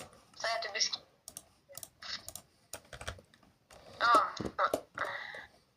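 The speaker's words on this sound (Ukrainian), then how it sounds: "Зараз я налаштовую клавіатуру, бо збилась." Computer keyboard typing in quick bursts of clicks and taps, close and fairly quiet, with short pauses between runs of keystrokes during a Minecraft play session.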